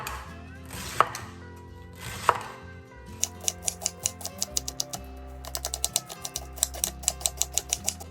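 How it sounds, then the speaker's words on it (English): A knife slices quartered cabbage thinly on a board, with a couple of heavier cuts followed by quick, rhythmic chops tapping out in fast bursts, close and alone. "And to slice them, I like to do to quarter them, and then I'm just going to do real thin slices."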